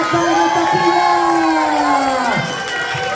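A large crowd at an Israeli Independence Day eve celebration cheers and shouts loudly throughout, with a sustained roar that holds steady and then eases slightly near the end; children's shouts ring out within it.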